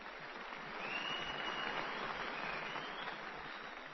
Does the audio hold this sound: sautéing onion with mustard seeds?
no